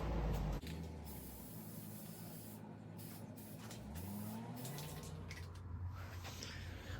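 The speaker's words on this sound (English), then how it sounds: "I got some black spray paint." Black spray paint hisses from an aerosol can in a home garage, a faint, continuous airy spray that runs steadily for several seconds after a brief start.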